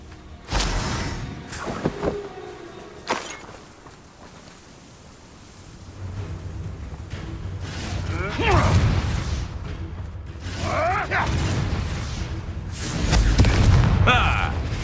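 Bombarda spell explosions during combat in the Hogwarts Legacy video game on PS5, several loud booming blasts and crackling bursts in irregular succession, with a voice speaking amid the battle noise.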